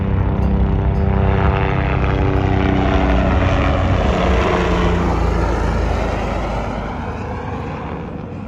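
Helicopter flying at Kedarnath, a loud close rotor and engine roar with pulsing chop that holds steady and then slowly fades as it moves away.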